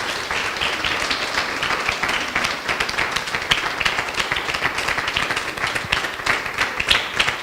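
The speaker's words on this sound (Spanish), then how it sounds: "Dale un fuerte aplauso al Señor." A church congregation at an evangelical service in Santa Coloma de Gramenet claps loudly and continuously, a dense crackle of many hands sustained throughout with a few sharper claps rising above the rest.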